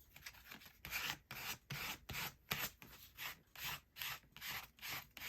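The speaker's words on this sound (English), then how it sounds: "I also will use some sort of a scraper or card" A scraper card rubs over collage paper made from advertisement flyers to press it flat, producing a rhythmic series of about ten dry scraping strokes, each a short rasping sweep, close and fairly quiet, with no voices.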